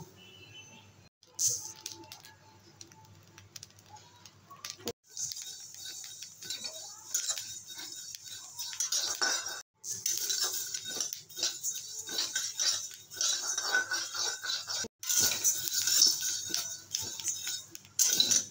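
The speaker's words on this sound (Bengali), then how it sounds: "এবারে চালটাকে ভেজে নেব" Dry rice grains scraped and stirred in a pan with a utensil while being dry-roasted, producing a steady patter of light clinks and rustles throughout, close by and moderately loud.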